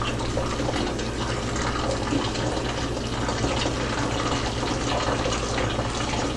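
Water poured slowly through a funnel into a plastic laundry detergent bottle, a steady, continuous splashing trickle that holds close and even throughout, with no talking.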